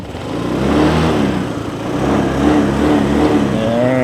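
A Honda motor scooter engine revs hard as the throttle is twisted, a loud, close mid-pitched drone that swells and climbs in pitch with no talking over it.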